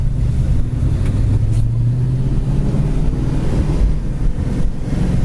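A 1972 Ford Mustang Mach 1 with a four-speed manual cruises along a rough road, its engine producing a steady low rumble with mild wind noise, loud and continuous with no talking.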